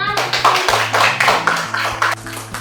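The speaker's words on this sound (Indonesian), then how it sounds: "Oke, kita tepuk tangan." A school class clapping hands together during a lesson, several short bursts of brisk clapping over a low steady hum, fairly close and loud with no talk.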